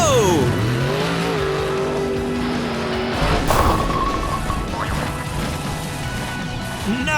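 A toy-style monster truck revs and drives at blocks, then crashes into them with a clattering smash. The engine drones loud and steady with whooshing sweeps throughout, and cartoon-like effects are mixed in.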